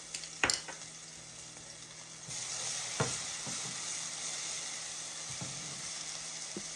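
Garlic sizzles softly in a pan of butter and olive oil, a steady hiss broken by a few clinks and scrapes of stirring, quiet and close with no talking.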